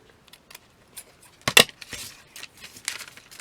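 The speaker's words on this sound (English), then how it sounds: "then cut the excess off the edges" Scissors trimming excess book-page paper from the edges of a decoupaged envelope, a few quick close snips and crisp paper rustles, one sharper cut standing out, with no talk.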